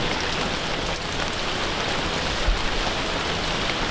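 Heavy rain pours down steadily during a bonsai planting session, a dense, even wash of falling water with no talk over it.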